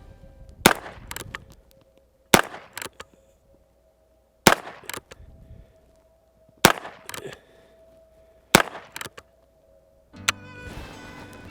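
Heritage Rough Rider Rancher revolver firing at targets outdoors: five loud, sharp shots spaced about two seconds apart, each followed by a brief echo, with quiet gaps between and a rustle at the end.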